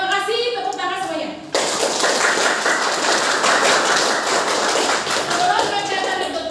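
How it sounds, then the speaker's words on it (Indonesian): A classroom of students applauds together at the end of a lesson, a dense, sustained burst of many hands clapping that starts abruptly after a teacher's brief voice and continues loudly to the end. "Tepuk tangan semuanya."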